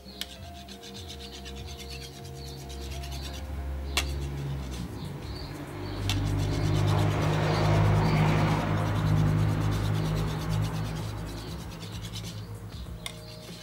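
A knife blade scrapes and rubs across a tempered glass smartphone screen protector in a durability test, making a long stretch of close, gritty scratching that grows louder partway through, with a couple of sharp clicks.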